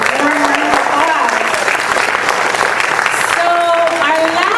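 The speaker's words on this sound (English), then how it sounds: "Can you please give her another warm round of applause?" Loud, sustained applause from an audience at a congressional campaign event, dense clapping filling the room throughout with voices and cheers mixed in.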